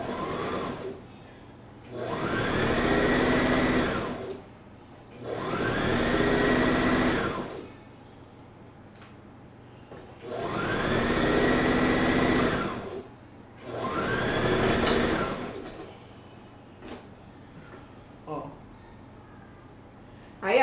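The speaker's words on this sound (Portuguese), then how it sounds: "Costurei um ombro e agora eu vou costurar o outro ombro." A sewing machine stitches the shoulder seam of a blouse in four steady runs of about two seconds each, separated by short pauses, heard close and clear with no talking over it.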